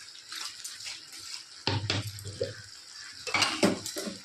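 Grinder jar being rinsed in a kitchen sink, with close clinks and knocks of the jar against metal and splashing water, loudest in two bursts about two seconds apart.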